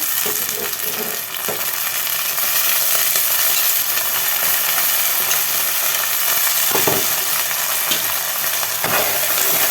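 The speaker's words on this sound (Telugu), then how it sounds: "పచ్చిమిర్చి జిల్లుతున్నాయి" Green chillies and onion sizzle and fry steadily in a hot pan, a loud continuous crackle with occasional clinks of a stirring spoon against the pan.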